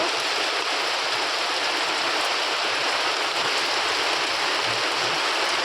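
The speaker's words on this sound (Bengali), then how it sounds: "ঠিক বেরোবো তখনই বৃষ্টি শুরু হয়ে গেছে" Steady rain falling outdoors, a dense uniform hiss that stays loud and unbroken throughout, with no voices.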